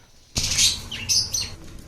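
Caged pet birds for sale at a bird shop burst into a sudden flurry of wing flapping and high chirps, loud and close, with a second shorter flutter and tweets following.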